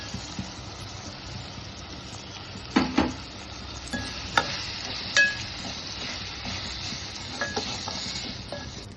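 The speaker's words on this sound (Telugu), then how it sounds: "ఇది బాగా వేగిపోయింది రవ్వ." Semolina (Bombay rava) roasting in a pan for ragi flour upma, stirred with a utensil: a soft continuous dry sizzle with a few sharp scraping clicks and knocks of the spoon against the pan, close and steady, no talking.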